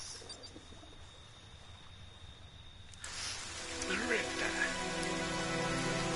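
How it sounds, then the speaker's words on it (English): Rain falls on a lake in a Friday the 13th video game, a soft steady patter that turns louder and denser partway through, with a tonal game sound rising underneath. "Another rainy day"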